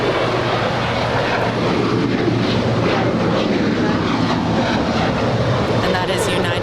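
United Boeing 737-900ER, nine years old, taking off at LAX, a steady loud roar of jet engines at full thrust that holds constant and close throughout, with a voice talking over it.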